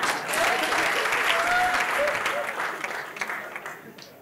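An audience at a comedy show breaks into warm, sustained clapping that swells and then gradually thins out, with a few voices mixed in beneath.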